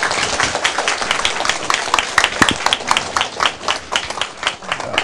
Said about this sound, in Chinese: 各位热烈掌声来拍手